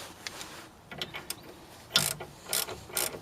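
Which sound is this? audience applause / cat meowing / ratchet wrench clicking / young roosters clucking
ratchet wrench clicking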